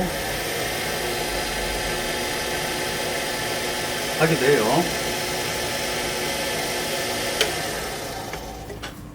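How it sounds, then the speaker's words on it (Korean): A wood lathe motor runs steadily at low speed while pens are finished with a brush, a constant mechanical hum under a brief spoken phrase, with a few light clicks and handling noises. "여러 개 작업할 때는 모터를 저속을 해놓고"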